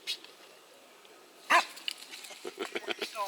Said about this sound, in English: She's a working dog.